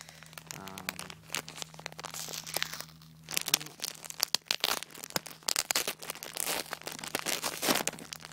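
String mesh being pulled out of crinkly plastic packaging, giving close, busy crackling and crinkling with sharp snaps and rustles throughout.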